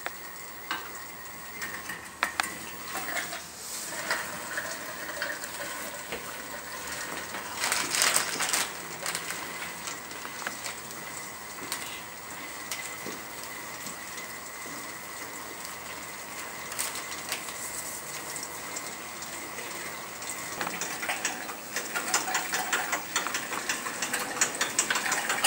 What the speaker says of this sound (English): he's going to demonstrate how you can use the dual-purpose bike to power a juicer